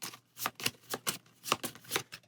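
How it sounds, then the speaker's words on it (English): Playing cards riffle and slap into a deck in a quick series of crisp, close bursts, about eight short rustles in a row, with no talking. "And shuffle that back into our deck."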